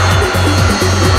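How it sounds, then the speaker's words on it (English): Loud, close helicopter at an RNAS Yeovilton air show, rotor thumping in a steady pulsing rhythm under a deep engine drone as it backflips from a stationary hover. "From a stationary hover, he backflips a helicopter."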